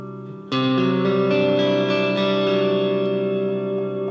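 An electric guitar chord rings out through a Strymon BlueSky reverb pedal set to room reverb, a bright sustained strum with a lingering, slowly fading wash of ambience.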